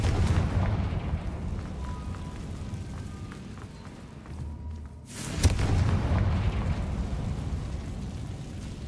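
A fire blast spell goes off in a fantasy video game, a sudden booming burst near the middle that rolls into a rumbling roar over a constant noisy background, with no talking.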